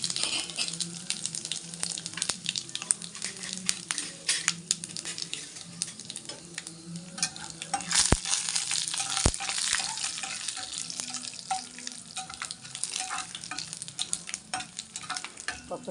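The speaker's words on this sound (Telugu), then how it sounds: "పప్పులన్నీ చక్కగా వేగాలన్నమాట." Mustard seeds, cumin, urad dal, chana dal and crushed dried red chillies frying in oil for a tempering, a steady close sizzle with crackling pops and a couple of sharp spoon clicks against the pan.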